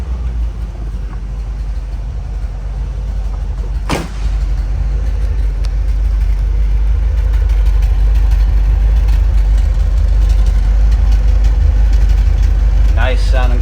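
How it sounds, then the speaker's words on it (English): A low-mileage, numbers-matching 1974 Corvette Stingray with a 4-speed idles outdoors, heard from the rear: a loud, steady, deep exhaust rumble with broad noise over it and one sharp knock early on. "let's hop outside and listen to how this thing sounds from the rear."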